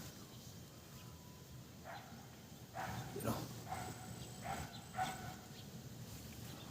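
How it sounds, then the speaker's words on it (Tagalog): Several dogs approaching outdoors give a few scattered barks and yips, moderately loud over steady background noise, with some faint voices nearby. "Ay dogs, may paparating dogs"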